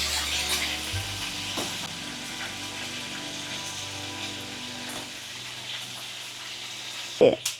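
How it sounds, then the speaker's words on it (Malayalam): Dried kalanchi fish fries in a pan with a steady, close hiss and crackle that fades slightly over time, ending in a sharp knock. "ഇനി കളാഞ്ചി വറുക്കാൻ പോവാം"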